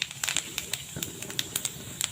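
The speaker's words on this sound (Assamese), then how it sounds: "মই তেল গৰম কৰিলোঁ, তেল গৰম হ'ল। এতিয়া মই ইয়াত যিখিনি গোটা জিৰা আছিলে সেইখিনি দিম।" Whole cumin seeds hit hot oil in a wok and give scattered sharp crackles and pops over a low frying hiss, close but fairly quiet.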